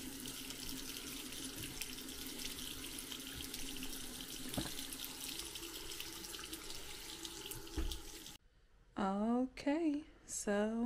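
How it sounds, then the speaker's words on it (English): Water runs steadily from a bathroom sink tap and drains away, a continuous close rushing that stops abruptly near the end, followed by a short stretch of talking. "The water seems to run through."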